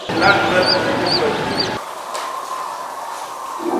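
Chicks in a hatchery give high, rapid peeping over a busy background hum, the cheeping clearest at first before the noise drops away to a quieter steady drone.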